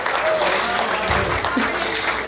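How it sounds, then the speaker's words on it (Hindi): A live audience claps for Sanwariya ji during a humorous stage talk, a short burst of applause under loud voices and crowd murmur. "एक बार सांवरिया जी के नाम ताली हो जाए"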